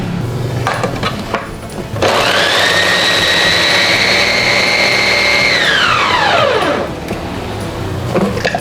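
An electric blender grinds shallots and garlic for a goat-meat krengsengan dish, its loud motor whine starting abruptly, holding steady for about five seconds, then winding down as it switches off.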